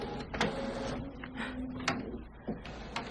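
A home printer runs through a print job, its motor whirring steadily with a low mechanical hum, punctuated by sharp clunks and feed noises close by.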